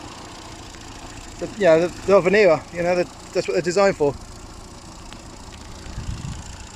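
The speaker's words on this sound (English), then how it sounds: "This is the little 1275 A series engine." A 1977 Morris Marina 1.3 Deluxe with its 1275 A-series engine idles steadily and quietly in the background while someone talks over it for most of the stretch.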